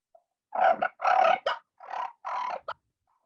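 A turkey fighting purr made on a hunter's call, imitating hens or gobblers fighting, with wings whacking together for realism: about six loud, raspy bursts in quick succession, close and alone with no talk.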